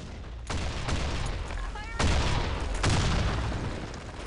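Gunfire in the online shooter game Blackshot, a burst of sharp shots around the middle and a heavier blast near the end, loud over a constant game din, with a voice speaking faintly in the background.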